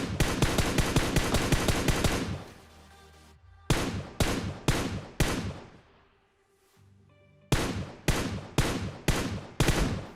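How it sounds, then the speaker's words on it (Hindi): Guns tap-fire in Garena Free Fire: a fast string of loud, close shots, then a pause, spaced single shots with ringing tails, another lull and a final run of shots. "जब एमओ कम होना तो टैप टैप फायर ही बेस्ट रहता है"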